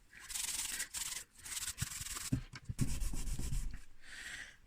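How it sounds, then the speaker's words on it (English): Grey Scotch-Brite pad scuffing a salvaged Aston Martin DB7 V12 car part, close, loud bursts of scratchy rubbing in quick back-and-forth strokes with short pauses between them. "I'm going to finish with just some grey Scotch-Brite."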